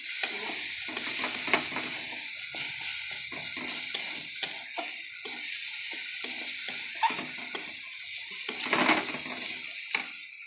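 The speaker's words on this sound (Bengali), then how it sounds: "এবার আমি ডালটা ঢেলে দেবো।" Mung dal poured into frying spices in a pan, then stirred: a steady sizzle with repeated scraping stirs and small clinks, close and alone.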